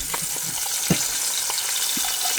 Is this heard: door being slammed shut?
no